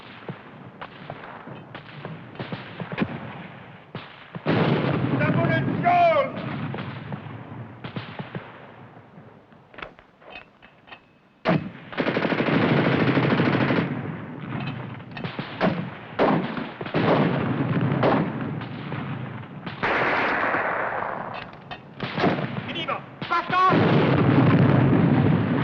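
Battle scene from the 1951 war film Go For Broke, with machine gun and artillery fire in dense bursts and booming blasts, loud and continuous with brief lulls, mixed with shouted voices.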